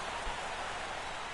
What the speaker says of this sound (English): the rain's coming down pretty good here at Fenway Park in Boston